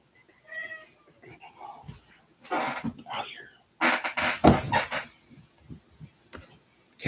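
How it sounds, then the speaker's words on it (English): A friendly house cat meows several times, a short mewing call at the start followed by louder, drawn-out cries and scuffling noises, fairly close, with someone talking between them. "Cat's bothering me. Just had to chase her away."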